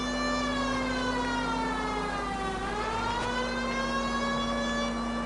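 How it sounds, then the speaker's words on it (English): A police car siren in L.A. Noire Remastered wails loud and continuous, sweeping slowly down and back up in pitch over a steady engine drone. "I'm gonna put the siren off because the sound is making me crazy"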